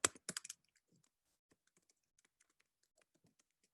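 A computer keyboard is typed on close by: a quick burst of loud clacks at the start, then sparse, faint key taps scattered irregularly through a quiet room.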